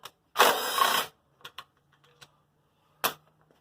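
A wrench works a 10 millimeter nut on a Champion log splitter during a tune-up, making one loud, harsh scraping burst followed by scattered sharp metallic clicks and ticks close by.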